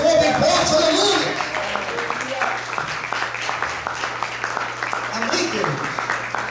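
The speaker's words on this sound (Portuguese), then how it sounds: "Quantos podem aplaudir e glorificar o Senhor bem forte?" A church congregation applauds at a Portuguese-language worship service, the clapping loud at first and then continuing as a softer, scattered patter under a preacher's voice and a low steady tone.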